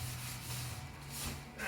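Wet sponge rubbed with water over the back of damaged printed wallpaper, a steady soft scrubbing swish lasting under two seconds, close and continuous with a low hum beneath.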